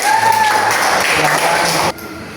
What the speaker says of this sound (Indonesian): Tepuk tangan buat ketiganya.